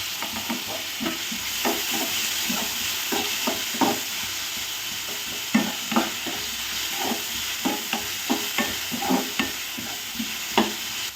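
Tomatoes go into a hot frying pan and are stirred. A constant sizzle of frying sits under about a dozen sharp, irregular scrapes and knocks of the spoon against the pan.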